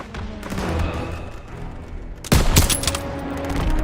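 Gunfire in Call of Duty WWII: a busy battle background leads into a sudden loud burst of shots, followed by continuing booming fire close up.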